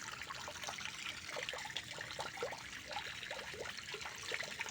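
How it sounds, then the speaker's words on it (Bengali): Natural waterfall spilling water nearby, a continuous splashing rush with bubbling trickles and uneven gurgles, moderately close and steady throughout, with no talk. "একদম ঝর্ণার লাগাতে পানি পড়ছে।"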